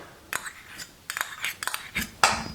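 Drained tuna broken up in a bowl with a utensil, giving a handful of close, irregular scraping clicks and taps against the dish, with quiet gaps between them.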